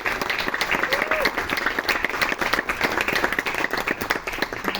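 A university ensemble masterclass audience applauds the bands, a dense burst of clapping from a room full of people, steady and fairly close, with a voice briefly sliding through.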